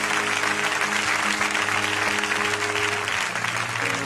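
Church congregation applauding to acclaim the Lord, a dense, steady wash of clapping from many hands filling the room, with faint voices and a sustained musical tone underneath throughout.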